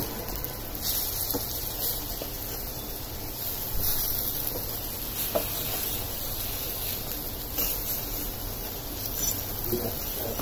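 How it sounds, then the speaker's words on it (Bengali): Lentil fritters (bora) frying in oil as they are turned, a soft, steady sizzle with faint bubbling and occasional light clicks. "এখন উল্টি পাল্টিয়ে ভেজে নেব।"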